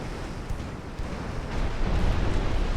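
Torpedo hits explode against a ship in the naval video game Ultimate Admiral Dreadnoughts, heard as dense, rumbling blast noise that swells and grows louder toward the end, with no clear gaps.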